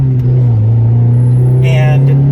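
Interior drone of a modified Honda Prelude with new motor mounts cruising on a city street, a loud, steady low engine hum with a brief higher whine near the end, voices over it.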